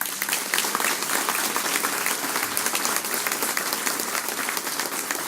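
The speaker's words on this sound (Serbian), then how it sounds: "I on zaslužuje vaš aplauz." Sustained applause from an audience at a political speech in Vlasotince, loud and dense clapping filling the whole stretch without pause.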